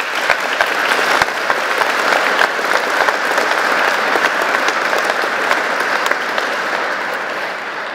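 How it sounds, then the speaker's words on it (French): A large audience applauds loudly and steadily for Sofiane Ben Slimane, defense pleader at an evening speech contest, dense clapping sustained throughout with no speech. "Je vous prie d'applaudir bien fort Sofiane Ben Slimane"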